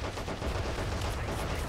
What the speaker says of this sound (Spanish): yo disparo aquí y la bala va para arriba